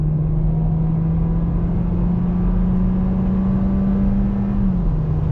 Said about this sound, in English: let's do a little acceleration test